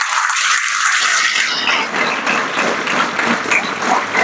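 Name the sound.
audience applause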